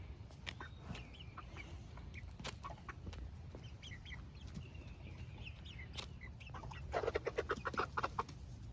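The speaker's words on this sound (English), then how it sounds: "Obviously they're chickens." Chickens and hens cluck and murmur near a coop, soft scattered calls over a low background hum, rising to a quicker burst of clucks near the end.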